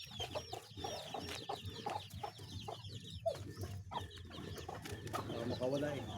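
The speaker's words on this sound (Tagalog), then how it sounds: "yung manok na ating babalatan" A chicken clucks and squawks repeatedly at close range just before being slaughtered, with busy scuffling and faint voices in the background.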